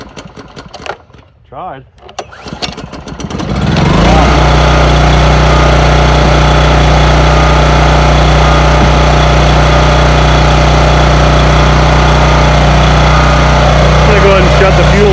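After some brief handling noise, a Husky generator engine restarts warm and settles into a loud, steady, close running drone; one short spoken word comes right at the start.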